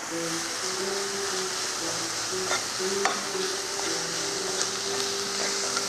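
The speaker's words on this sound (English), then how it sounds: "And then we're gonna get our hamburger going." Ground beef sizzling and frying steadily in a pan for sloppy joes, with a continuous crackling hiss and occasional louder pops and stirring scrapes close by.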